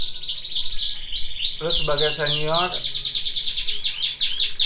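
Canaries chirp and trill in rapid, high, bright runs close by, singing steadily throughout while someone speaks briefly over them.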